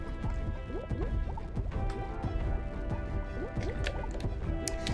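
Water glugging and dripping as a fresh bottle of water is opened in the video game Metaphor: ReFantazio, a dense, continuous bubbling, liquid sound, loud and close, with no talk.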